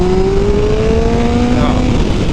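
A Kawasaki GTR 1400 motorcycle engine revs above 5000 rpm, a loud, steady, rising drone that holds close and continuous for a couple of seconds.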